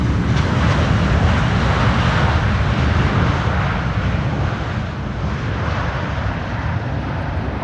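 Fixed-wing airliner arriving on the Polderbaan runway at Amsterdam Schiphol Airport on a windy day, a loud, steady, broadband jet engine roar that stays strong throughout with no speech.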